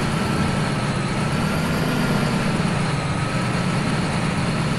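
A noisy tractor engine idles in Farming Simulator 17, a loud, steady low rumble with a droning hum that holds constant throughout, with no talking.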